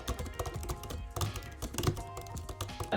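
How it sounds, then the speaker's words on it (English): Rapid, uneven clatter of keys being typed on a 14-inch MacBook M1 Pro (2021) laptop close by, a steady stream of soft taps with no voices. "this is what the keyboard sounds like."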